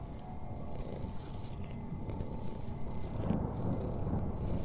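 A cat purrs steadily while being petted indoors, a continuous low rumbling close by, with no talking.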